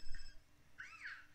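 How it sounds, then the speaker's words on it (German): A synthetic phone ringtone in The Sims 4 chirps twice, a short electronic trill followed by a longer rising-and-falling tone, fairly quiet. "Und da klingelt ein Handy."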